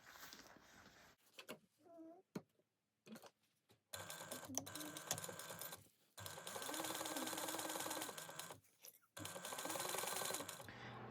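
A sewing machine stitches a 3/8 inch seam on a Fibi fold-over project, running in several steady bursts of rapid stitching separated by brief pauses, with some quiet handling noise at the start.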